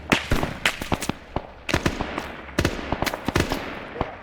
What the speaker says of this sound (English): Some asshole shooting behind it.